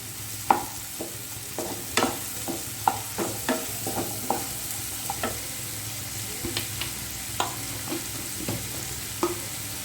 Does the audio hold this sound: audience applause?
no